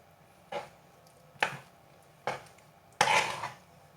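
Semolina being stirred with water in a bowl: four separate scraping, clinking strokes of a utensil against the bowl, spaced about a second apart, the last one longer, close and fairly loud.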